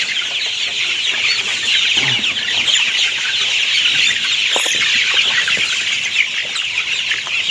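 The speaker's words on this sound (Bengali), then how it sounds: "মুরগিরা কি বড় হচ্ছে নাকি হয়নি?" A flock of chickens clucks while feeding at night, a dense, continuous chorus of close, overlapping clucks and soft chatter with no talking.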